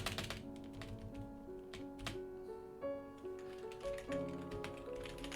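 Quick, light keyboard typing taps away at a computer over steady background music, with clicks scattered irregularly through the stretch.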